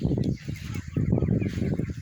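Muscovy ducks on a farm give a rapid run of close, rough calls in short bursts, with brief pauses between clusters.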